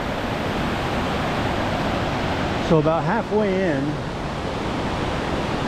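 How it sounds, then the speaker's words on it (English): Small 15-foot waterfalls flow beside the Wahclella Falls trail in the Columbia River Gorge, giving a constant rushing roar. Someone speaks briefly over the water partway through. "Some little, I would say 15-foot waterfalls stemming from the large one that's up there in the trees"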